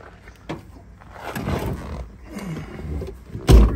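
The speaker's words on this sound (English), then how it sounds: "Start it up, take it for a nice spin." A 1968 Buick Electra 225 convertible engine turns over and catches, a rough low rumble that swells and settles into an idle, ending with a sharp louder thump, no voices.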